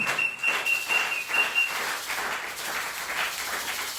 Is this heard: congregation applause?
yes